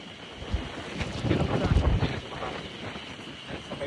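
Strong gusts buffet the microphone with low rumbling, swelling in the middle, over a faint background of water, outdoors in Nasushiobara, Japan.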